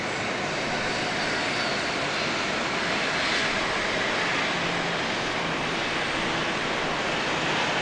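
An airplane at Dallas Love Field runs its engines in a loud, steady, broadband roar near the runway, continuous throughout with no voices.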